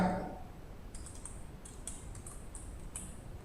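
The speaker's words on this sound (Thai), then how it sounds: "เราจะใช้คำสั่งที่คีย์บอร์ด โดยการกด Ctrl N ครับ" Computer keyboard keys click in a quick, irregular series of light taps close up, pressing a Ctrl N shortcut while working in Photoshop, over a faint room hiss after a short breath at the start.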